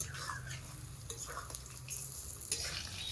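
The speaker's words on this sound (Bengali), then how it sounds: "অল্প আছে নেড়ে চেড়ে ভাজা ভাজা করে নিলাম" Chicken pakora fritters fry in plenty of oil in a wok, giving a steady sizzle with occasional stirring scrapes and brief louder crackles throughout.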